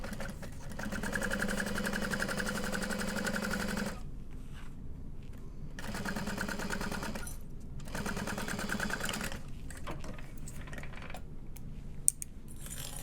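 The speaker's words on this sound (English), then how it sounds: "we're gonna sew at a 3/8 inch seam allowance. Through the stabilizer on that side panel." A sewing machine stitches a handbag side-panel seam at a 3/8 inch allowance through stabilizer, running in steady rapid bursts of mechanical clatter that pause briefly between runs, close and fairly quiet.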